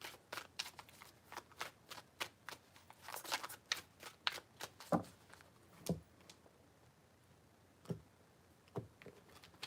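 Quiet, close card shuffling: a run of crisp riffling flutters and taps, with several distinct shuffles and no talking.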